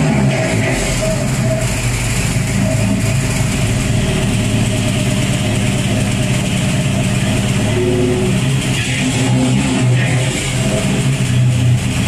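A Jeep engine runs steadily for about twelve seconds with a rough, uneven sputter from a suspected throttle position sensor fault, loud and close, with no talking over it.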